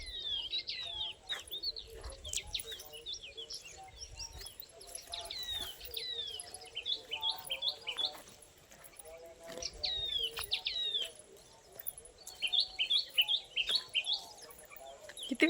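A mix of different bird species calls outdoors, with bright chirps, repeated trills and tweets overlapping in bursts, some close and clear, against faint insect-like buzzing and low background noise.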